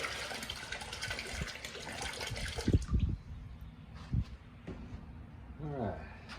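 About a gallon of old coolant from a 2006 Triumph Speed Triple is dumped out, a close splashing, gurgling pour that tails off into a few trickles and drips.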